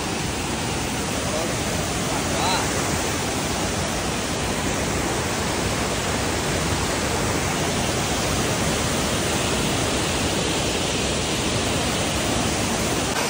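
A waterfall at a dam site with water flowing under high pressure, making a loud, constant broadband roar that fills the scene evenly from start to finish without breaks.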